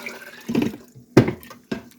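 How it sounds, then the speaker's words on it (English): Water is poured into a large 8-quart pot in a home kitchen, coming as a few short splashing gushes, about three bursts separated by brief pauses, close and moderately loud. "I'm going to add the rest of this water."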